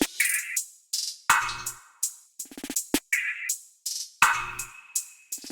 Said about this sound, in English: here are my drum grooves